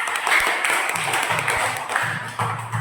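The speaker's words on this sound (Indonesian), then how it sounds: "tepuk tangan" Students in a classroom clap together, a busy patter of hands that stays fairly loud throughout, with low murmuring voices underneath.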